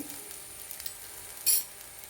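Tomatoes sautéed in a pan with chili, coriander and masala powders for a Kerala-style mushroom biryani: a soft, steady sizzle with one brief scrape of stirring midway.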